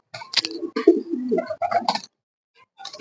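Pigeon cooing close by, a series of soft, throaty warbling coos coming in bursts, then a short pause before another call starts.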